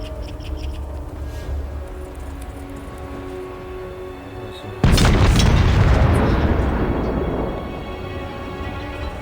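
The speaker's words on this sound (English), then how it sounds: "Cannons!" Cannons fire in a Total War Warhammer 3 battle: a sudden loud, deep booming blast lands midway through a steady low battlefield rumble, then its roar slowly fades over the next few seconds.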